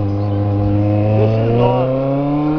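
An old Kawasaki Ninja motorcycle engine idles and revs with a steady, loud harmonic drone, close by and continuous, its pitch rising briefly mid-clip.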